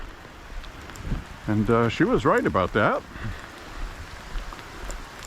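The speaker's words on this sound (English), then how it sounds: "it's raining pretty hard right now" Hard rain falls steadily during an outdoor walk on Memorial Day, a continuous broadband hiss running throughout, with a person speaking briefly over it in the middle.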